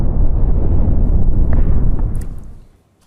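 Loud, close, rumbling explosion blast from Israeli air strikes on Beirut, Lebanon, a sustained deep roar that lasts over two seconds before cutting off abruptly into silence.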